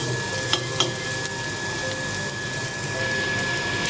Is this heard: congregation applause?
no